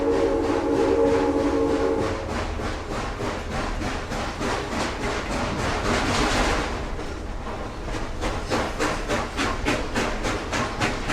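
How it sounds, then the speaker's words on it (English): Steam locomotive C&O 2765 chuffs rapidly and unevenly as its main drive wheels slip on the rails while climbing the New River Gorge, with a brief whistle tone at the start and a hissing burst midway. "That's the sound of the main drive wheels losing traction on the rails."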